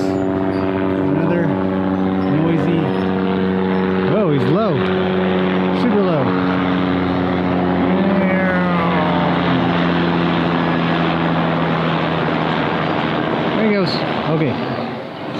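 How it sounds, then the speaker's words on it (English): A loud, steady rotor and engine drone overhead with whining harmonic tones that shift in pitch, filling the whole stretch with no pauses. "it's a helicopter"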